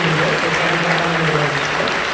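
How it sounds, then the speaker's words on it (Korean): A church congregation applauding warmly to welcome visiting families during a Sunday service, dense continuous clapping from many hands filling the hall at steady loudness. "우리 뜨겁게 박수로 환영해 주셨습니다."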